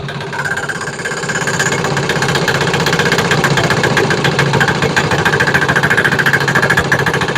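A Chinese 168F single-cylinder diesel engine running on homemade diesel fuel, idling low with a steady, rapid knocking chug that stays loud and close throughout, with no talking.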